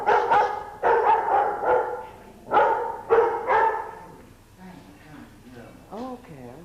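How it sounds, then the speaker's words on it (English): Dogs at a house bark close and loud in a series of sharp bursts, followed by softer whimpers, with some talk in the background. "I don't want the dogs to attack you."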